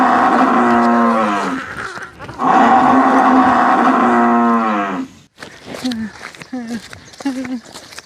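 A buffalo moos loudly and close by in a rural setting, giving two long drawn-out calls followed by several shorter broken bellows.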